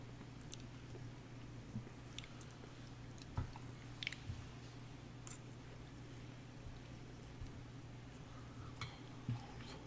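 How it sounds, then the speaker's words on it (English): Soft, close chewing of a brownie with faint squishy bites at irregular intervals under a low steady hum, during a poker stream. "Sound is chewing."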